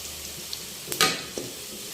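Panch phoron spices hit hot oil in a pan for a mixed vegetable dish, a soft steady sizzle with a brief sharper crackling burst in the middle and a few small pops.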